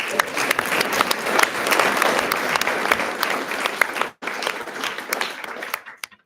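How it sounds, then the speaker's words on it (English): Loud, sustained applause from a large audience at a trail race pre-race briefing, clapping densely for several seconds before a brief gap and then tapering off. "Really big round of applause for all of the volunteers that we've got out there."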